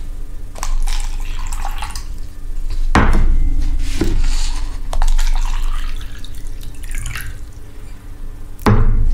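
Water is poured into a plastic cup for a sand and soil demonstration, a few splashing pours and drips across the clip, close and fairly loud with no talking.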